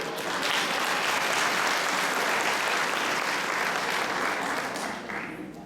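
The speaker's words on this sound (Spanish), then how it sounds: "Dense otro aplauso por eso." A church congregation breaks into sustained applause during a sermon, a thick, even wash of many hands clapping for over five seconds before fading at the end.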